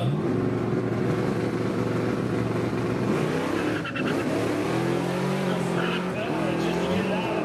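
A junk Chevrolet S10 truck launches hard off a drag strip starting line, its engine roaring and revving loudly amid crowd noise while an announcer talks over it.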